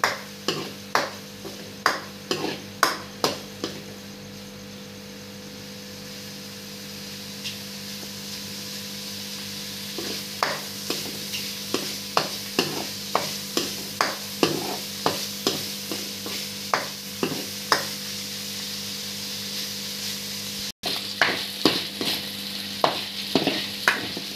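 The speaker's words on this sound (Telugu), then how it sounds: "కొంచెం పన్నీర్ అలా వేయించుకుని" Paneer fries in butter in a kadai, a steady sizzle broken by regular, fairly loud scrapes of a spatula against the pan as the cubes are turned, repeating throughout with a short pause near the end. No voices.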